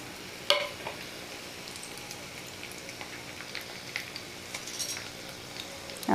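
Mango pickle ingredients sizzle and crackle in hot oil while a spoon stirs and clinks against the pan, a soft steady frying hiss with a few sharp taps, close by and without speech.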